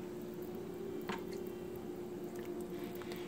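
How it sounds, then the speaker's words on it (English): Chicken drops into a pot of boiling water for chicken spaghetti, a soft wet squish and splash about a second in over a steady low bubbling hum, no talk. "So I'm just gonna add my chicken."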